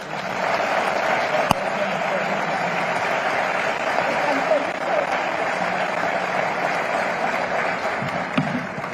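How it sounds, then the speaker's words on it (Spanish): An audience gives a warm, steady round of applause to welcome Xóchitl Gálvez at a conversation event, the clapping even and sustained at a moderate distance with little variation. "Solicito un fuerte aplauso para darle la bienvenida a Xóchitl Gálvez"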